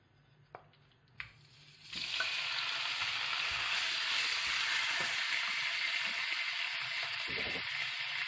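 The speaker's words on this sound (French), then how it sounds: "Donc on va faire revenir la viande comme ça." Beef pieces browning in hot oil in a preheated frying pan or sauté pan: a couple of soft knocks, then a loud, steady sizzle that starts abruptly and carries on alone.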